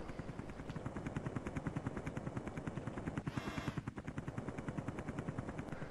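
Rapid machine-gun fire rattles without a break in the Amiga helicopter game Zeewolf, punctuated by a short explosive burst midway, with a low rhythmic engine-like thud underneath throughout.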